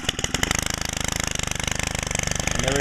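A Stihl FS90R gas string trimmer runs just after a cold start, with its muffler screen removed. The small two-stroke engine gives a loud, rapid, evenly pulsing buzz close by, with a slight rise in intensity at the end.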